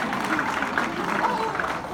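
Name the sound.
theatre audience applause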